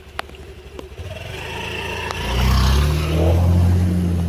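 A car driving along a waterlogged road between Kamla Park and Aryan Ground during monsoon flooding, its engine rising to a loud, close rumble midway through the clip, over a continuous background of water and traffic.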